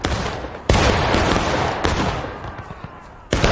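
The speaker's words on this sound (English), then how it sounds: "That sounded like artillery." Booming artillery fire in the Civil War game War of Rights sounds in loud blasts, one near the start and another near the end, with a long rolling rumble between them.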